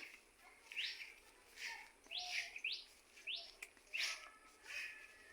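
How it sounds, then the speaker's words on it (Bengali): Small birds chirping outdoors near a vegetable garden, a string of bright, quick chirps and tweets repeating every half second or so, faint and a little distant over quiet background, with no talking. "পাখির কিচির মিচির ডাক অনেক সুন্দর লাগে তাই না"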